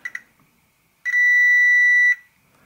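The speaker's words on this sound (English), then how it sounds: "then it should beep if I get it on there correctly." A multimeter continuity tester on an Apple //c volume control circuit gives one steady, clear electronic beep lasting about a second, after two brief clicks from the leads touching.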